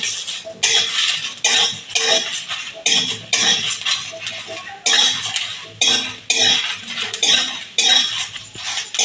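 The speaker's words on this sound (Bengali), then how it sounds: "এই মশলাটাকে ভালো করে একটু ভেজে নেব।" Continuous metallic scraping and clinking of a utensil stirring coriander, fennel and cumin seeds in a pan, with repeated rhythmic strokes and a loud, close sizzle-like hiss.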